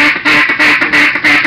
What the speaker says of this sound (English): first I'll show you what the call kind of sounds like into my duck commander